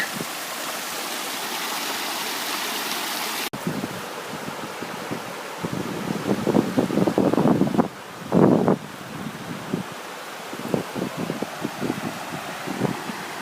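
A babbling mountain brook along a hiking trail, heard as a continuous rushing, splashing water wash, fairly loud and close, with wind buffeting the microphone and shifting gurgles as the recorder moves, no talking.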